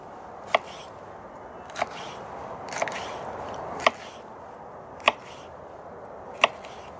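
A knife cuts a bell pepper into large pieces for duck shurpa, six sharp, separate chops on a board spaced about a second apart, close and distinct over a quiet background.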